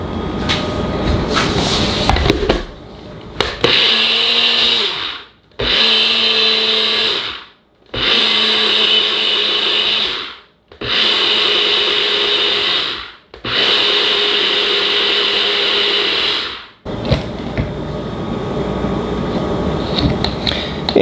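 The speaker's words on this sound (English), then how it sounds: "we want to blend that up into really fine pieces so that it dissolves a lot better in our aquarium" A blender grinding granular aquarium cichlid salt into fine powder, running in five loud, close pulses of several seconds each separated by short pauses, with clattering handling noise before and after.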